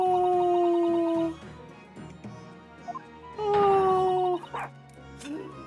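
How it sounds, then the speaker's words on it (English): A dog barks in The Great Ace Attorney 2 with a few clear, game-like yelps. Two loud tonal bursts stand out early and midway, and a brief spoken exclamation comes between them. "It barks."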